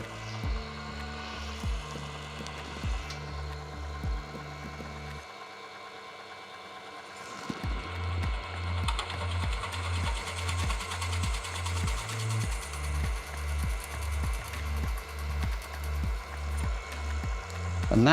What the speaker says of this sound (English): And that is my pilot hole drilled